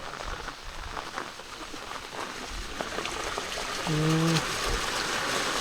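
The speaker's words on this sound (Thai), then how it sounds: "น้ำไหลลงเลย" Rainwater pours and trickles steadily during a heavy downpour by a field hut, a continuous near wash of flowing water with a brief tonal knock partway through.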